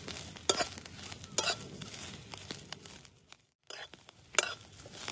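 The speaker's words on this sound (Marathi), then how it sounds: "कांद्याला तांबूस रंग येस्तोवर भाजून घेतला" Onion, garlic and ginger dry-roasting in a pan while being stirred, giving a close, busy run of scraping and rattling strokes with a light sizzle and a brief pause before the stirring resumes.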